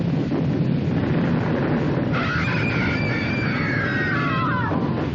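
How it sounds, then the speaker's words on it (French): A continuous, thunder-like rumble fills a scene from the 1972 disaster film The Poseidon Adventure, steady and loud throughout, with a high wailing, creaking tone rising and sliding over it midway. "un grondement, une espèce de tonnerre permanent qui suggère qu'une explosion"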